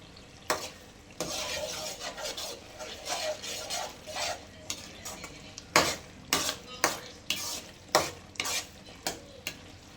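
Masala frying in oil in a pan, a busy sizzle under a rhythmic series of loud spoon scrapes and clanks against the pan, quickening toward the end, no talking.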